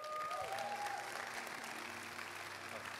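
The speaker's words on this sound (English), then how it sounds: "Let's give them a round of applause for our life group leaders." A church congregation at Luminate Church in Covina, California applauds its life group leaders with a steady, fairly soft round of clapping. A faint tonal backdrop lingers underneath.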